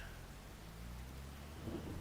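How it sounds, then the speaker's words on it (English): Steady rain hisses over a low, rolling thunder rumble in the video game Farming Simulator 25 on the Pallegney map, quiet and continuous throughout, with no voices. "Oh, just in time too. It just started to rain."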